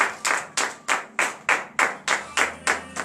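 A congregation at a morning prayer service in Benin claps in unison, about ten sharp, evenly spaced beats in a steady rhythm, loud and close, with no speech over them.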